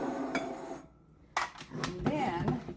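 Ingredients stirred in a bowl for gluten-free chicken tender batter, with scraping and clinking of a utensil against the bowl in short strokes, a brief pause, and talk alongside.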